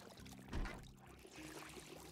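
Water pours in Project Zomboid, a survival video game, as a soft, quiet gushing stream that swells briefly midway.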